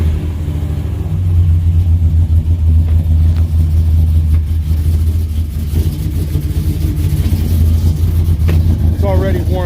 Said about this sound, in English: I'm gonna get a little cold start action here